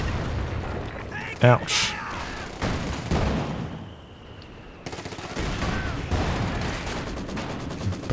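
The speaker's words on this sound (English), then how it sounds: "In fact, double heavy mortars against the double infantry support guns." Heavy mortar fire in Company of Heroes 2, a 2v2 match of mortars against infantry support guns, rumbles through dense battle noise with a sharp blast early on while a voice talks over it.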